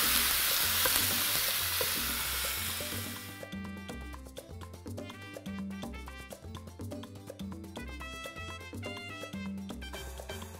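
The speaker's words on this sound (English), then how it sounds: "So over a medium high skillet, we're just gonna get this to start browning." Ground beef browns in a skillet over medium-high heat for a sloppy joe casserole. A strong crackling sizzle opens the passage, then it continues more quietly with stirring under background music.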